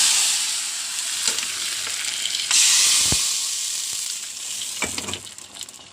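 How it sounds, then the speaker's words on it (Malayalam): Hot oil tempering with mustard seeds, dried red chillies and curry leaves poured into boiling drumstick and toor dal curry, giving a loud, steady sizzle and crackle that flares up partway through and stays close, with no talking. "കൂട്ടാൻ തിളച്ചപ്പോൾ അതിലേക്ക് ഒഴിക്കണം"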